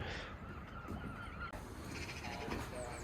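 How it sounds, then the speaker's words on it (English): Geese honk at Bristol Harbourside, calls rising over a steady outdoor background of wind and ambient noise, moderately near but not loud. "these geese seem to be enjoying themselves too"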